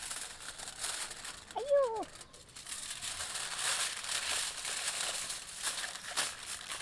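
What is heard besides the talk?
chicken being wrapped and folded in aluminium foil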